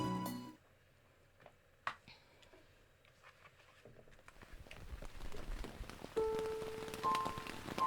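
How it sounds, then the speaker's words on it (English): Rain falls in the video game Genso Manège, a soft patter that starts faint and builds into a denser downpour with scattered drips and small tones over it, with no talk. "The rain came soon after. Threads like silk poured from the sky without warning."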